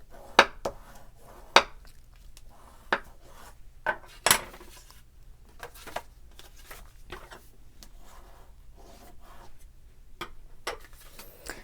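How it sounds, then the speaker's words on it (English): Scored cardstock is creased along its seams with a tool, giving soft rubbing strokes broken by several crisp ticks and taps at irregular intervals, close and fairly quiet, with no talking. "So we're going to go ahead and crease those seams."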